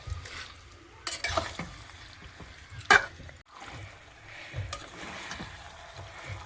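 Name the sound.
chicken sautéing in oil in a pan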